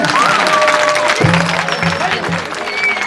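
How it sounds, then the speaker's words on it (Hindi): An audience claps along at a Hindu religious gathering during a Shrimad Bhagavat Katha recitation, a dense, steady patter of many hands with sung or chanted voices and tonal notes woven over it. "सब भाई बहन ताली बजाएं।"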